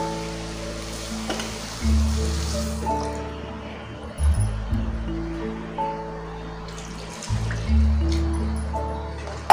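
Water is poured into okra sambar in a pan, making bursts of splashing and trickling with quiet gaps between them, set against faint low background tones.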